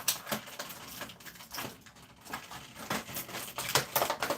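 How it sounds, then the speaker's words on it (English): Plastic packaging of action figures crinkles and rustles in quick irregular bursts, close and moderately loud, with no speech. "So y'all hear the plastic rumbling in the background."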